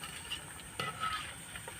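Balushahi sweets made from leftover rice fry in oil, a faint, gentle sizzle with a few soft clinks of a utensil against the pan.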